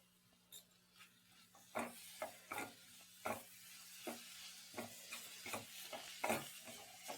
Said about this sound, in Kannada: ನಮ್ಮ ಟೊಮೆಟೊ ಒಳ್ಳೆ ಸಾಫ್ಟ್ ಆಗಿ ಬರಬೇಕು, ಅಲ್ಲಿವರೆಗೆ ಇದನ್ನು ಲೋ ಫ್ಲೇಮಲ್ಲಿ ಇಟ್ಕೊಳ್ಳೋಣ.